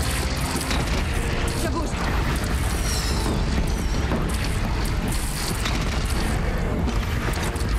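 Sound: cannon firing, from the video game Horizon Zero Dawn

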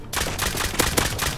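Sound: gunfire in Rust video game

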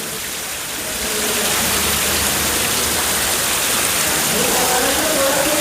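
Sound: rain falling outside

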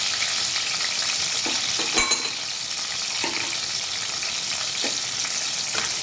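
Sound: frying crushed garlic and spice paste in a pan

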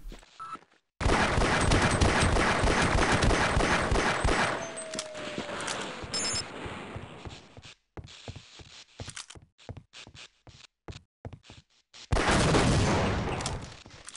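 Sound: automated turret gunfire in the video game Half-Life: Opposing Force

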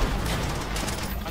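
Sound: gunfire in video game Call of Duty World at War

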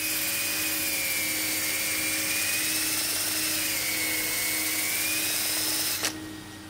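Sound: wood lathe turning a stool seat

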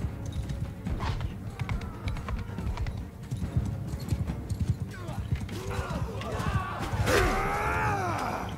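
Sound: horse hooves clip-clop in a video game (Bannerlord)

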